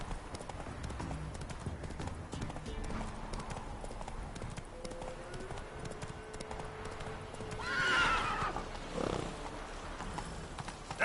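Hooves of the horse Roach clip-clop steadily through a Witcher video game scene, and near the end a loud whinny rises above the trotting.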